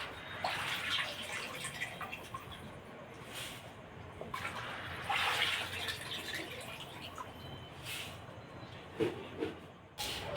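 Soaked pigeon peas being poured into a sack for drying, with water draining and trickling through the cloth in several uneven, splashy bursts at close range, no voices present.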